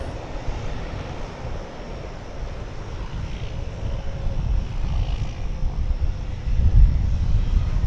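A Martin Air airliner passes at DFW Airport with a broad, steady engine roar that swells slightly toward the end, heard from a distance with wind rumble and no talk.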